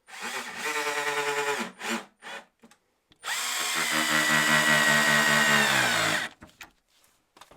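A power drill drives screws to join wooden apple crates. Several short whirring bursts are followed by one long, loud, steady run, then a few brief trailing spins, with no talk.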